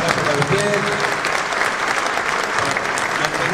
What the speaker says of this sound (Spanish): pedir un aplauso de reconocimiento a quienes durante tantos años han estado gestionando y esperando la escritura